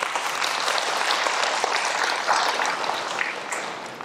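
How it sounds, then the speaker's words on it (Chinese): An audience at a talk claps together in a sustained, fairly loud burst of applause. "来，各位先给自己鼓掌一下。"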